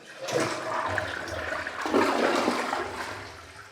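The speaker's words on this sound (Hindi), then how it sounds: "कई बार अगर ऐसा फ्लश नहीं होगा तो आप इसको 2 मिनट वेट करके टैंक फुल होने के बाद दोबारा फ्लश कीजिए।" A toilet flushes nearby: a sudden loud rush of water swells, dips briefly, then surges again before slowly fading into a gurgling refill, with no voices.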